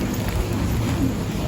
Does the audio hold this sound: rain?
yes